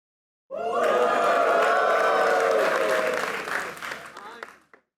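Studio audience bursting into loud, sustained applause and cheering during a comedy talk show, holding steady for about three seconds before tapering off into scattered claps.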